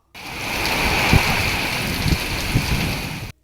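Heavy downpour lashing the Telugu states during a storm, a dense, steady hiss of rain that stays loud and even for the whole stretch, with a few soft low thuds underneath and no voices.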